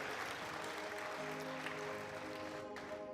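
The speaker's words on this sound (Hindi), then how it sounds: "ताली बजाओ प्रभु यीशु मसीह के लिए जोर से।" A church congregation claps loudly during a sermon, a dense, sustained burst of applause that fills the room evenly from start to finish with a faint tonal hum beneath.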